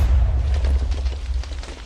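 A Minecraft Sky Factory modpack explosion in a video game: a loud, deep rumbling boom that fills about two seconds and slowly trails off, with no talking.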